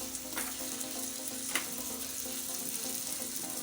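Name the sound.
stir-frying vegetables with spaghetti in a pan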